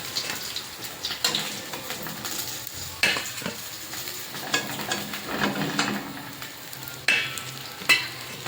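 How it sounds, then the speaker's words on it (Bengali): Pieces of rui fish frying in hot oil give a steady, close crackling sizzle, broken by sharp clicks and scrapes as the pieces are stirred and turned in the pan. "এভাবে সব মাছের টুকরোগুলোকে ভেজে নিতে হবে।"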